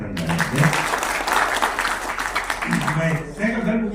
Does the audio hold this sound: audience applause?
yes